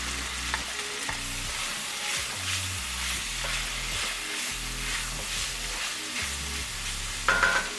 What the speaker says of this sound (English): Once our bacon's about a third of the way cooked, drop in our onion and our habanero.